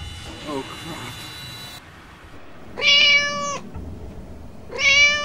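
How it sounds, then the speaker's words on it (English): A house cat meows twice, a few seconds apart, each call loud, close and drawn out, after brief indistinct talking and a hissy background. "Where the hell is our cat?"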